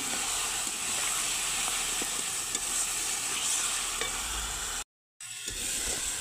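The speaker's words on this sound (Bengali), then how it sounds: "ভেজে রাখা আলুটা দিয়ে আমি ভালো করে মিশিয়ে নেব মশলার সাথে" Fried potatoes being stirred into mutton masala in a pan: a steady, loud sizzle and hiss with scraping stir strokes. It breaks off for a brief moment near the end and then resumes.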